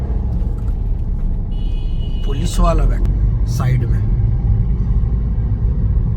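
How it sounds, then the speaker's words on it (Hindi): Heavy road traffic at a busy, jammed intersection gives a loud, continuous low rumble of engines and tyres, with someone talking close over it and a brief higher whine or horn in the middle. "पता नहीं क्यों इसी चौराहे पे इतना ट्रैफिक क्यों है"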